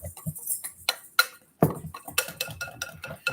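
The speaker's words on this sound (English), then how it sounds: "I'm going to whisk this together" Pancake batter whisked in a bowl, with a run of quick, close clicking and tapping strokes that grow busier toward the end, then a brief scrape.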